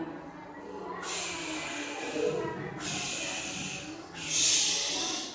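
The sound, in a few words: child imitating a snake hiss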